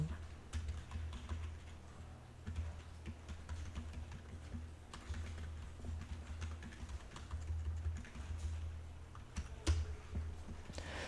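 Keys are typed in steady, uneven bursts on a computer keyboard while code is entered into a main.js file, with a low hum underneath and a few louder taps. No talk is heard.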